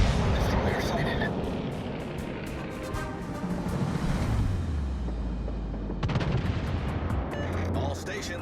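Heavy naval gunfire booms from a Tier VII premium Massachusetts battleship in World of Warships Legends, a loud rumbling roar of repeated salvos with a renewed burst near the end, as a voice speaks over the battle.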